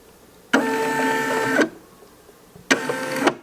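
A Brother SE625 embroidery machine drives its hoop around the outline in two close, fairly quiet mechanical whirring bursts, one about a second long and a shorter one after a pause, with no talking.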